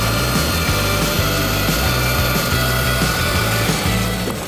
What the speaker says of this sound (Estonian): Selle augu me puurime ka siia sisse.